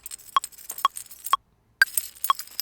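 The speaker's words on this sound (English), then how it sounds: "I found some Foley of some car keys" Car keys jingling as a Foley sample in a UK garage beat, bright metallic clinks chopped into regular rhythmic bursts with a short gap of silence between them.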